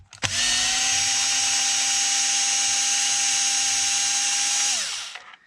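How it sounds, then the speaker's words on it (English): A power screwdriver backs screws out of a Traxxas XRT RC car during a teardown, its motor spinning up sharply into one steady, loud whine for about five seconds before winding down. "So I'm going to go ahead and release these screws."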